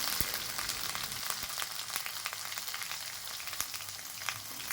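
Spice paste with ginger and turmeric fries in a pan for Bengali fish curry, a faint steady sizzle dotted with small crackling pops throughout.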